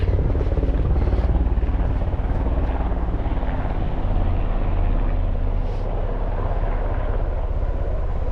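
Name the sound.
large helicopter flying over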